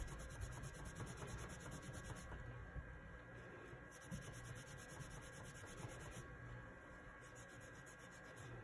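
Soft, steady rubbing of cloth against a small polymer clay piece, polishing it, continuous and close, over a faint background hum.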